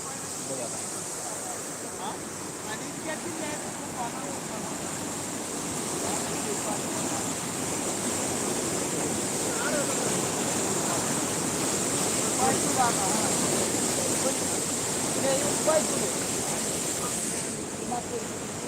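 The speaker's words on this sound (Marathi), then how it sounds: "चांदनी नदीला खूप मोठा पूर आलेला आहे" The flooded Chandni river rushes in a broad, constant roaring wash during heavy rain, swelling slightly in the middle, with faint indistinct voices in the background.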